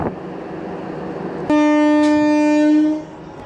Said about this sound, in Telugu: నాగసముద్రం నుంచి మన ట్రైన్ బయలుదేరింది.